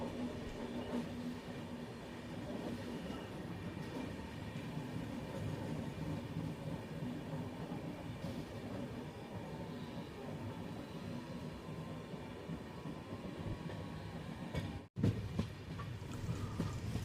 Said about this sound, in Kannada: ಮೀರಜು ಹುಬ್ಳಿ ಎಕ್ಸ್ಪ್ರೆಸ್ ಟ್ರೈನ್ ಕ್ರಾಸಿಂಗ್ ಆಗ್ತಿದೆ.